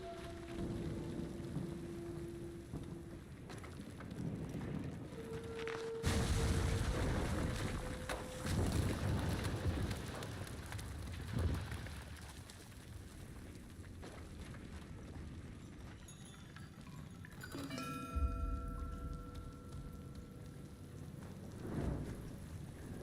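Rain in a video game, a steady wash of rainfall with wind-like noise running throughout, plus tonal game sounds and a few louder swells, and no talking.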